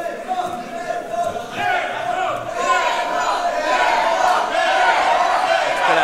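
A wrestling crowd at a catch event cheers and chants for the wrestler Leon, a loud, dense roar of many voices that swells and stays strong throughout.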